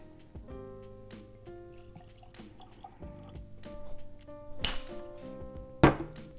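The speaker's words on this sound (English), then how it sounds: "All right, let's get it into a glass." Pursuit United Double Oaked bourbon whiskey trickles into a glass up close, a faint thin pour with soft drips, then two sharp clinks of glass near the end.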